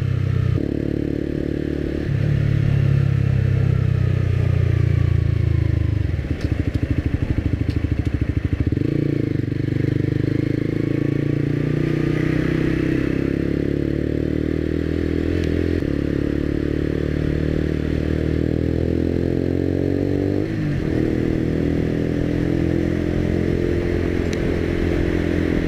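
Motorcycle with a loud aftermarket exhaust idling and running steadily, a dense low rumble that holds throughout with slight shifts in pitch and occasional clatter, close to the microphone.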